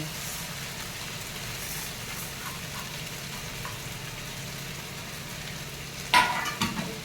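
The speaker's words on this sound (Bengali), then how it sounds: "এবার এই যে ভেজে রাখা চালটা আমি এর মধ্যে দিয়ে দেব" Fried rice cooking in a pan for a Bengali fish head dish, a steady low sizzle throughout, with a sharper clatter and burst of sizzling near the end as something is stirred or added.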